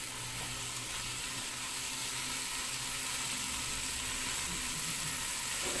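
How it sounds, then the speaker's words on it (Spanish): Peas and a rice-dish base sautéing in a pan, a loud, close, continuous sizzle with faint crackle and low scraping underneath, no voices. "ya le echamos la alverja y estamos sofriendo nuestra base"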